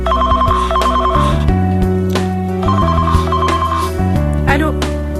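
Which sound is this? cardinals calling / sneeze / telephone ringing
telephone ringing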